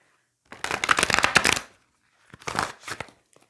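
A Lover's Path tarot deck is riffle-shuffled by hand, one long crisp rattling burst of cards followed by a shorter second shuffle, close and loud with no talk.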